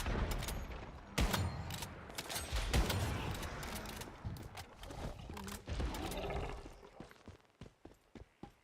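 Shotgun blasts in the survival shooter Once Human, several sharp loud bursts in irregular succession mixed with growling creature noises and scattered shots.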